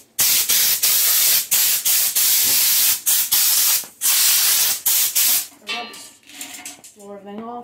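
Compressed air blasts off the engine area of a Honda-powered Troy-Bilt 4500 psi power washer: loud, close hissing bursts in quick repeated pulses, stopping near the end, where a voice talks.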